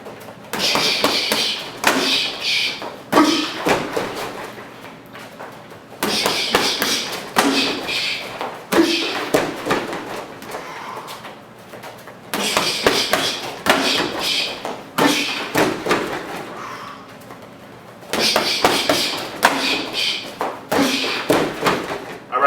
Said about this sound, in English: So it's gonna be jab, up, hook, cross, low kick with lead side, land back, round step, boom, come up and teep.